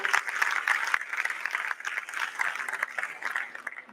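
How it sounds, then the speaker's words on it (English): An audience at a university foundation day ceremony applauds steadily, a dense, continuous wash of clapping from a crowded hall that fades slightly toward the end. "A big applaud to them."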